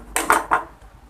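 Two or three quick, crisp snips of scissors cutting thread on a kurti neckline during machine embroidery, close and brief, with no talking.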